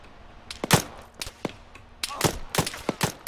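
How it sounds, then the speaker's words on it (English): Gunfire in ARMA 3 as a player is hit, scattered sharp shots and short bursts at irregular intervals, some near and some farther off, with a faint voice underneath. "Oh, you got shot again."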